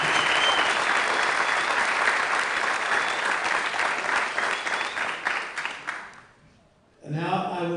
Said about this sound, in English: one more big round of applause for both our Nighthawk Ambassador Award winners.